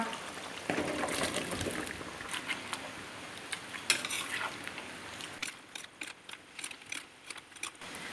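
Chicken and ash gourd being stirred in a cooking pot, with close scraping and clinking of a utensil against the pot, uneven bursts of stirring over a soft sizzle, quieter and sparser toward the end.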